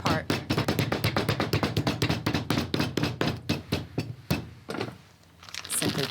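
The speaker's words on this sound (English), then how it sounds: "You've got a nice rubber mallet there, and we're just going to hit the surface somewhere between a tap and a hammer" A rubber mallet taps clay laid on ceramic tile in a steady rapid rhythm of sharp, close knocks, slowing to a few final strikes with a brief quiet gap near the end.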